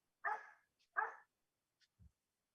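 A dog barks twice in quick succession at close range, then a few faint soft thumps and small noises follow in an otherwise quiet room.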